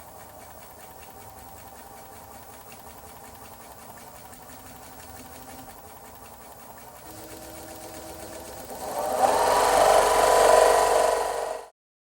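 A serger sewing machine, capable of up to 1,700 stitches per minute, stitches fabric with a steady mechanical whir that swells into a louder, faster run near the end before stopping abruptly.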